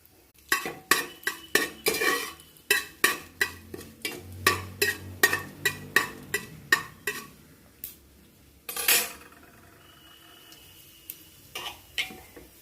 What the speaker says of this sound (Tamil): நல்லா பொறிஞ்சு வரட்டும் வெந்தயம் சீரகம்லாம்